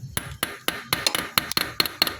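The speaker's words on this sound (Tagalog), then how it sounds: "Pukan nyo na agad to ng martilyo." Sharp hammer blows on metal from a Yamaha Sniper 155 motorcycle being dismantled, about ten ringing strikes in a quick, slightly uneven rhythm, close and fairly loud with no talking.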